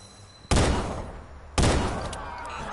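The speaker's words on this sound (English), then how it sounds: "Gunshots! Help!" Two loud, close gunshots ring out about a second apart in the video game Watch Dogs, each a sharp blast with a decaying echo tail.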